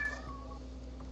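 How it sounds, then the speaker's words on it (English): A cat gives one short, faint meow near the start, followed by quiet background hum. "Oh yeah, that's my cat."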